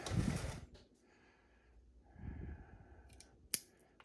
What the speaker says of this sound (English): Let's give those a little trim.